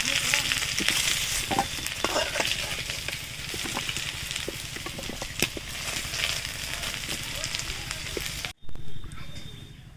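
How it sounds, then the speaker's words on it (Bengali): Potatoes and taro frying in hot oil give a steady crackling sizzle with occasional stirring clicks, fairly close, running continuously until it cuts off abruptly near the end. "তো আলু ও কচু খুব ভালো করে ভেজে দিয়েছি"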